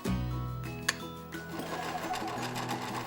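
A sewing machine runs steadily while stitching a seam on a witch costume one centimetre from the edge, its close, continuous mechanical whir filling the clip without talk.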